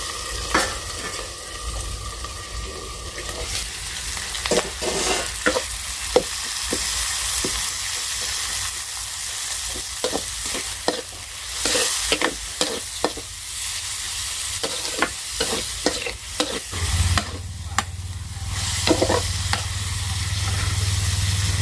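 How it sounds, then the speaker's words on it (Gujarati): Tempering spices sizzle and crackle in hot oil for a soybean curry, with a steady frying hiss broken by sharp stirring clinks and scrapes throughout, and a louder burst of sizzling near the end. "આ વઘાર દેવાનું"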